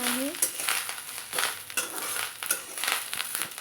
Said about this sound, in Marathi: तर मी ह्या कढईमध्ये थोडंसं अजून तेल टाकून छानपैकी ह्याला क्रिस्पी होजेपर्यंत भाजून घेणार आहे